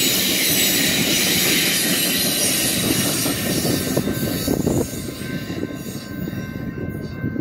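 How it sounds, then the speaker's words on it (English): An Amtrak San Joaquins passenger train with a cab car leading and an F59PHI diesel locomotive rolls past close by in Calwa, California, a loud continuous roar of wheels and rumbling engine that gradually eases as it moves on. "There goes that train"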